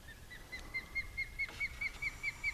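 A bird perched by a large nest repeats a bright, high chirp about nine times in a steady rhythm, moderately loud and alone against faint background noise.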